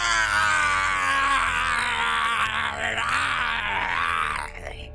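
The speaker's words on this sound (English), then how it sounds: "Goku jumps up and starts screaming" Goku lets out a long, loud, sustained scream in an anime fight as he powers up in the Makai realm, a strained harmonic voice holding steady for several seconds before easing off at the end.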